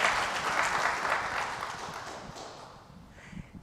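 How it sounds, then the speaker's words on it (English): Audience applause for the panelists at a disability employment symposium, a moderate wash of clapping that starts full and gradually thins and fades toward the end. "another round of applause for the panelists"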